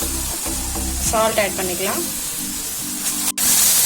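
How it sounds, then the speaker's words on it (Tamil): Grated beetroot frying in a pan gives a steady, close hiss and sizzle throughout, with a voice speaking briefly over it. "திருப்பி கொஞ்சம் ஃப்ரை ஆகட்டும்"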